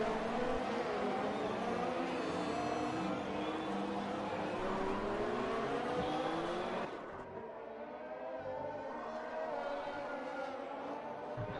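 An F2 race car in an F1 racing game on the Canada circuit revs hard through a chicane, its engine whining steadily with shifting pitch before dropping as the car brakes and changes gear, close and continuous.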